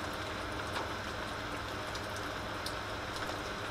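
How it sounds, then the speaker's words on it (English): Heavy rain pours down steadily as a dense, continuous hiss with scattered sharper drop impacts, filling the whole stretch at even loudness with no talk. "it's also been pouring down rain"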